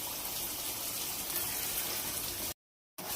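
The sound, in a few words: water being poured into cooking pot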